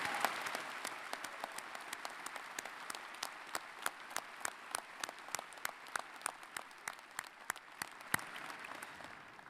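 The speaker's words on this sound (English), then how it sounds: "I would ask for everybody to applaud Dr. Schmidtmann for her extended." Steady applause from a large audience at a university commencement ceremony, dense continuous clapping with sharp individual claps standing out, sustained for the whole stretch without speech.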